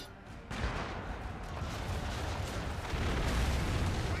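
Mortar fire and explosions in Assassin's Creed III: a sustained, rumbling barrage of booms that swells after a brief quieter start and stays dense and heavy throughout, with no clear gaps.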